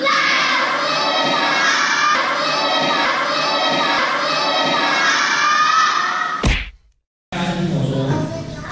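A classroom of children shouts and cheers loudly in a dense, sustained roar with some thumps, then cuts off abruptly into a brief silence before the din resumes.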